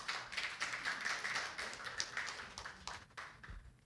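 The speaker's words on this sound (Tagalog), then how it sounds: "Pumalakpak po ngayon ang mga disciple ng Diyos" A church congregation at a Filipino worship service breaks into a burst of clapping that runs for a few seconds, with dense hand claps at a moderate distance before it thins out near the end.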